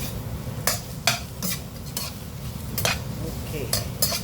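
Onions fry in a pan for fish escabeche, a continuous low sizzle broken by sharp bursts of stirring and utensil scrapes against the pan, close by.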